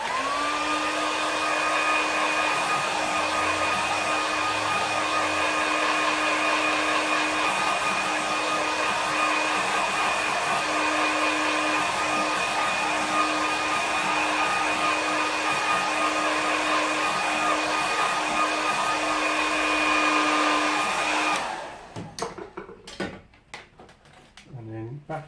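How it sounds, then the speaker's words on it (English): A hair dryer whirs steadily at a constant pitch for about twenty seconds, then switches off, leaving brief clicks and rustling. "So I'm just going to use the hairdryer."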